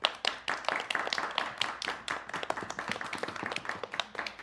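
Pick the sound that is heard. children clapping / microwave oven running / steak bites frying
children clapping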